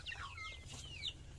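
Chickens fed fermented bran and ground corn cluck in short, repeated bursts over a steady low hum, fairly close, with no talk.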